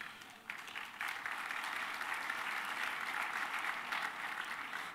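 Sustained applause from an audience at a speech on government reforms, dense and steady throughout after a brief softer start, with no talk over it.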